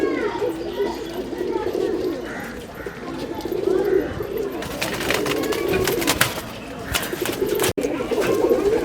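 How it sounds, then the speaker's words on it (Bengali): Pigeons cooing on a rooftop loft, including a Bejigola pigeon, soft repeated coos close by under someone talking, with rustling and flutter-like bursts in the later half. "এই কবুতরটা হলো একটা বেজিগলা কবুতর"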